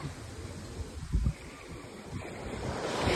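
Sea waves wash onto a beach, a soft, distant surf that swells and recedes under light wind.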